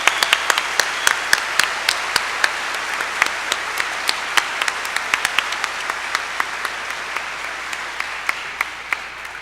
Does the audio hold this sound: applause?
yes